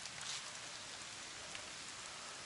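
A heavy rain shower pours down in a village after a storm, a steady dense hiss of rain beating on surfaces with no voices.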